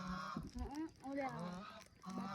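A goose honks repeatedly in a village farmyard, with loud, close, nasal calls in quick bursts and faint voices nearby.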